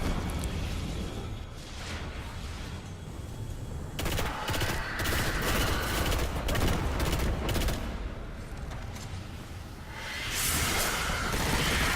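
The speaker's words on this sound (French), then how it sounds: "Je me suis dit avec la mitrailleuse je vais lui faire beaucoup de dégâts" Machine gun fire in the video game Destiny, dense bursts of rapid shots over a loud rumbling soundscape of whooshes and blasts, with no talking.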